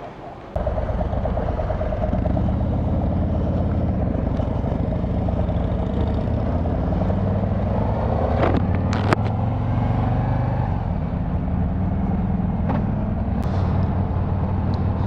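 A 2022 Harley-Davidson Road Glide ST bagger motorcycle rumbles steadily while being ridden, a continuous loud engine drone with wind rush and a couple of sharp clicks midway.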